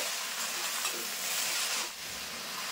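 Palm jaggery melting in a pan for a sweet-sour plum pickle is stirred steadily, giving a close, continuous soft scraping and gentle sizzle with no talking.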